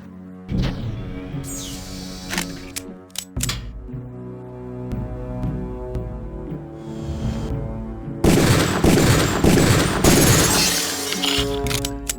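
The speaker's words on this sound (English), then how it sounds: "Release the first target and take a few shots with one of the pistols until it is destroyed" Pistol shots at a training target in Deus Ex's UNATCO training course, sharp reports over game music, followed by a loud shattering burst as the target breaks apart.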